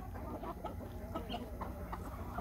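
Young hens hatched this summer clucking steadily among farm poultry, a busy run of short clucks and soft calls close by, with no talk over them.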